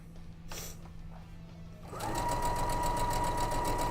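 A sewing machine starts up after a quiet moment and runs in a steady, rapid mechanical whir while stitching quilt pieces end to end.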